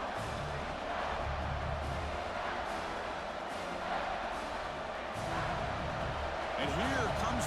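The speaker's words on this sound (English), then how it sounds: "And here comes the noise. This crowd is trying to inspire this defense to make a big red zone stop." College football stadium crowd at a Texas Longhorns vs Georgia Bulldogs game roaring steadily to rally the defense for a red zone stop, a dense sustained wash of noise rising near the end, with commentary talk over it.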